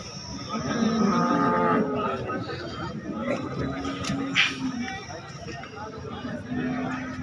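A cow lets out long, low moos over a busy background of crowd chatter and voices at the Sangola cattle market on a rainy day.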